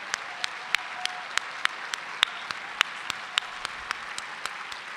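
Sparse applause for state representatives at an assembly gathering: a handful of distinct, evenly spaced claps over five seconds, thin and somewhat distant, with no voices.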